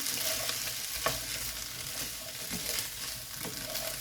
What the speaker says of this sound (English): that will start to sizzle a little bit because there's liquid in there and now it's starting to heat up